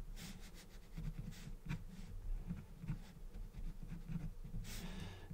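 A pen scratches quick, uneven strokes across paper while sketching a building and tree for a pen and watercolour drawing, soft and close with rhythmic scraping bursts.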